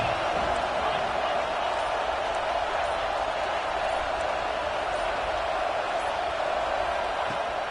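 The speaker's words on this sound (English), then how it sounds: "This crowd ready to make its presence known." A packed stadium crowd at an Ole Miss college football game, a loud, continuous roar of massed voices holding steady for several seconds, with a play-by-play announcer talking over it.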